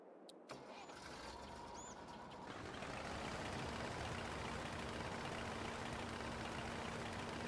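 A tractor engine in the Farming Simulator video game starts up and settles into a steady, loud, continuous drone, with a brief click and quieter hum at the very start.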